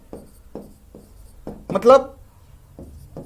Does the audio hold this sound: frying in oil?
no